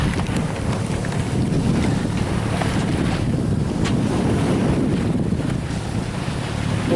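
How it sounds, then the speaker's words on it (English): A sailboat motor-sails into oncoming waves, with a constant roar of wind buffeting the microphone over rushing water and the hull's low rumble, steady and loud throughout. "we're still going into these waves, so it kind of goes koosh, you know, bashes up and down a little bit"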